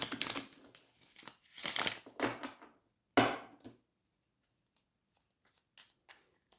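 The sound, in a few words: tarot cards being shuffled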